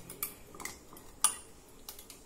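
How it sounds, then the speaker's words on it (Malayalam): A spoon stirs salted hog plums (ambarella) in brine inside a jar, giving a few sparse, sharp clinks and taps against the container, with no talking. "ഇനി നമുക്കിത് നന്നായിട്ടൊന്ന് ഇളക്കി കൊടുക്കാം"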